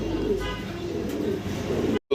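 A male fancy pigeon coos in repeated low, throaty calls, close by, over a soft background hum.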